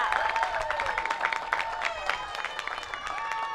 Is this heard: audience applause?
yes